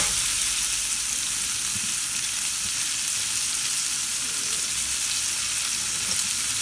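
Onions frying in a pan for Jamaican brown stew fish, a steady loud sizzle with faint stirring that holds continuously without pause.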